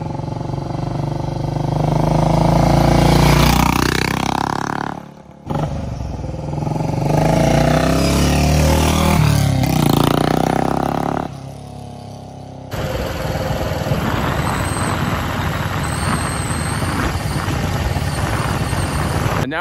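A 2007 Royal Enfield Bullet 500 with a carbureted single-cylinder engine runs loud and close, with a steady idle and rises in revs, and then a rougher, lower running note near the end.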